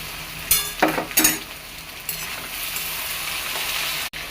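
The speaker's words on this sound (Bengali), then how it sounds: "ব্রেকফাস্টে আলু আর পেঁয়াজ এই যে ভাজা করছি চাউমিনে দেওয়ার জন্য" Potatoes and onions frying in a pan for chow mein, a steady close sizzle with a few louder stirring scrapes near the start and a sharp clack near the end.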